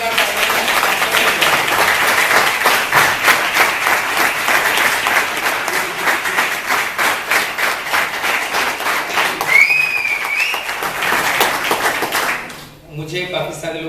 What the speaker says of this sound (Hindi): तो एक बार बहुत ही जोरदार तालियां